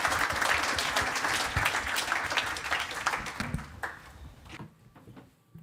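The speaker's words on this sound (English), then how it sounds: "A round of applause, please, for all of our speakers." Audience at a panel discussion on financing digitalisation applauds the speakers, a dense sustained clapping that gradually thins out and fades to near silence at the end.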